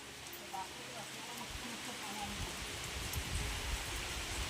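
Rain falls steadily outside as a soft, even hiss that grows a little louder and denser partway through.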